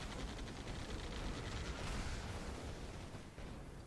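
Quad cannon gunfire in the real-time strategy game Rise of the Reds, a dense, continuous roar of rapid automatic shots and battle noise that stays loud and steady throughout.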